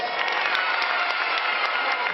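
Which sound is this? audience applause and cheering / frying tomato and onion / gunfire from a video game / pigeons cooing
audience applause and cheering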